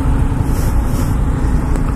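Low, steady engine rumble of a Yamaha MT-07 motorcycle ridden through town streets, droning continuously under heavy wind buffeting on the microphone.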